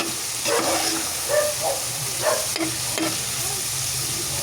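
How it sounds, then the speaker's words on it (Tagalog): Pork stir-fry with Knorr liquid seasoning being stirred in a hot pan, a steady sizzle with a few scattered scrapes and clinks of the utensil, close and moderately loud, no talking. "Tapos, haluin mo ng konti."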